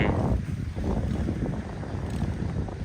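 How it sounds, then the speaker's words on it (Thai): Wind blows steadily beside a river near Mukdahan, Thailand, making a loud, continuous rush that buffets the microphone for the whole clip. No voices are heard. "ลมพัดเย็นดีขนาด"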